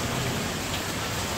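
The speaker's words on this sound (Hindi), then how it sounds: "बारिश तूफानी बारिश हो रही है इस टाइम लाहौर" Heavy stormy rain pours down in Lahore, a dense, loud, unbroken hiss of drops hitting surfaces close by, with no voices over it.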